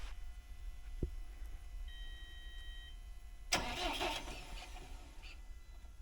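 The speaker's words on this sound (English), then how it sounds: "So this is quite a dozer." A bulldozer engine idles in a low steady rumble, then cranks up and roars louder before settling back to a running drone.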